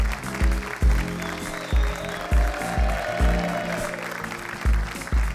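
A studio audience on an Algerian television talk show claps in regular bursts, the applause swelling and fading several times under a steady musical backdrop.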